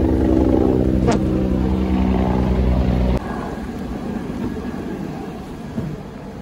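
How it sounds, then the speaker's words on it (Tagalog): A helicopter passes overhead during an outdoor stingless bee harvest, a steady droning rotor hum with a tonal whine that drops to a lower, rougher rumble partway through. "Ngayon, may dumaan. Helicopter."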